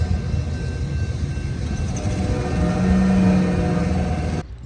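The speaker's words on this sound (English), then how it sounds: "a passing train offered a fitting welcome" A train passes through downtown Lincoln, Illinois, on Route 66 as a loud, steady rumble, swelling as it nears, with a sustained horn-like tone near the end before cutting off.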